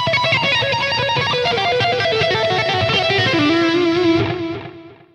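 A distorted electric guitar plays a fast, busy tapping lick, dense notes running without pause before a final held note rings out and fades.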